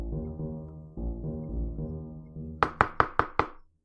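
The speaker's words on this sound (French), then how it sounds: "À peine celui-ci eut-il refermé la porte que le loup frappa." Knocks on the door of a wooden house in the three little pigs tale, five sharp evenly spaced raps that follow a low held musical tone, crisp and close.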